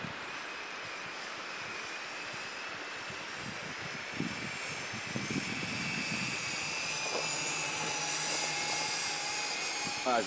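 An X6 Tarantula hexacopter drone flying past at full throttle, its rotor whine holding a steady high pitch throughout, moderately loud, with some brief thumps and clatter near the middle.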